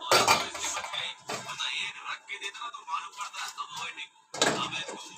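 A metal lid is set onto a cooking pot while a bottle gourd and lentil-fritter dish cooks, with clattering and scraping of cookware, a brief pause, then another clatter, close by.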